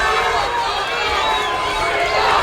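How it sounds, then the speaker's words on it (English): Boxing arena crowd murmuring and reacting as a steady, dense wash of many voices, with no single voice standing out. "So now I can hear the crowd react"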